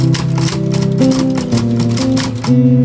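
Steady mechanical clacking of typewriter keys over a sustained musical background of held tones, fairly loud and continuous.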